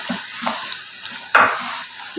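Green chilies being stirred into saag frying in a pan, a close, loud sizzle with a few scraping stirs and one sharper burst, no voice heard.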